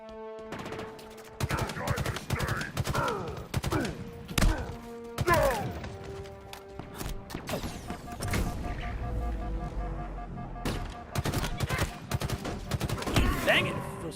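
Gunfire from snipers and other weapons in the video game Halo Infinite, sharp repeated shots and bursts mixed with game music and effects, with brief talk under the action.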